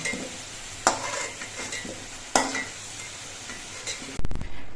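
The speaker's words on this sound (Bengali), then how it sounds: "আলুগুলো লালচে রং ধরিয়ে ভেজে নিয়েছি এবার এই আলুগুলো আমি নামিয়ে নিচ্ছি" Fried potatoes lifted out of a wok of hot oil, continuous sizzle with a few sharp metal spatula scrapes and clinks against the pan, close by with no talking.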